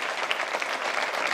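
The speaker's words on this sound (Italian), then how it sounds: "Grazie, ancora un applauso a Daniela Rossello e la maestra Anna Maria C" An audience claps steadily and densely at the closing awards night of a film festival, a short burst of applause without voices.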